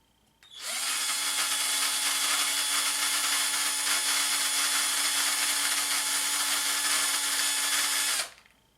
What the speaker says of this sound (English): Run your drill for a few seconds.